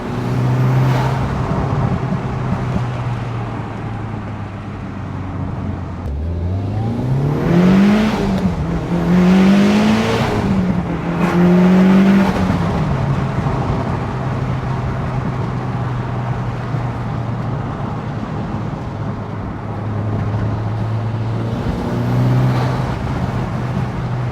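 A Mitsubishi Evo 8 FQ300 with a 4G63 engine, around 400 bhp and four-wheel drive, drives at a steady cruise, then revs up through several rising and falling gear pulls before settling back to a constant drone.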